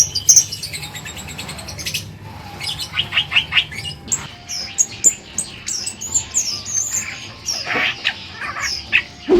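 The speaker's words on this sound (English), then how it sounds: "With their dashing looks, do they also have the same dashing voice? To find out, let's hear their voices." Fiery-browed Starlings, male and female, calling in a Sulawesi forest: a busy run of sharp chirps, whistles and squeaky notes, near and fairly loud, overlapping in quick irregular bursts with no talk.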